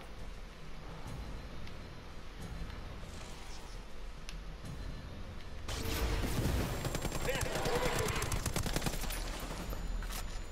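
Automatic gunfire from the video game Ghost Recon Wildlands crackles in dense bursts that grow louder and busier in the second half, over steady game ambience.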